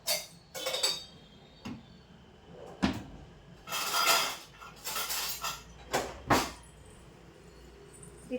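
A spoon stirs jaggery and salt into water for panakam, making scattered clinks and scrapes against a metal vessel, irregular and close, with louder knocks and short gaps between them.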